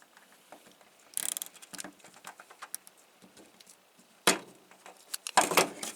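A ratcheting tensioning tool cinches a zip tie, producing quiet runs of rapid mechanical clicks broken by a few louder, sharper bursts close by.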